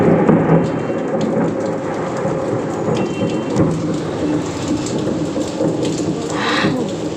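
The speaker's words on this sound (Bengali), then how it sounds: "বেশ বৃষ্টি হয়েছে বেশ" Heavy rain falls hard under a darkened sky, a dense, loud roar with deep thunder rolling through it, continuous and close, with no one speaking.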